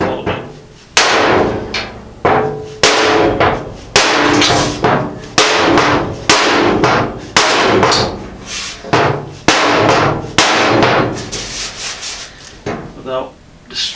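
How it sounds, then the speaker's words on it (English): A big hammer whacks a dent out of the sheet-metal bed of a Ford Model A pickup shop truck, about a dozen loud, ringing blows landing close up at a roughly steady, unhurried pace. "This thing is really caved out this way, so I'm going to give her a couple big whacks"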